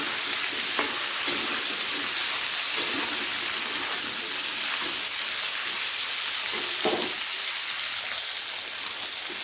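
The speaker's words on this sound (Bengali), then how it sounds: "তো সমস্ত সবজি কিন্তু হালকা লাল করে ভাজা হয়ে গেছে।" Vegetables including sweet potato frying in oil in a pan for a Bengali drumstick curry, a steady loud sizzle with occasional scraping stirs, no talking.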